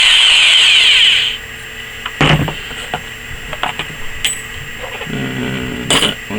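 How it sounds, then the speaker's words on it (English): A power drill bores a pilot hole for a homemade forge burner, a loud steady whine for just over a second, followed by scattered clanks, taps and handling noises of the workpiece and tools. "Pilot hole is drilled."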